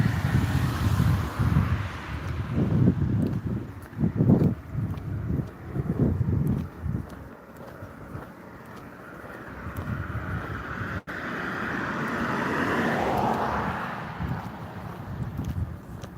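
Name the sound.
wind blowing outdoors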